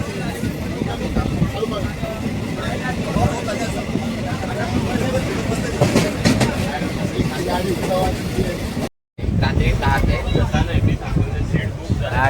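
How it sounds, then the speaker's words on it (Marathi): Passenger train setting off on a trip from home to Ujjain, with a steady close rumble and carriage noise running throughout beneath constant nearby chatter and babble from passengers. "ट्रेन चालू झाली आहे."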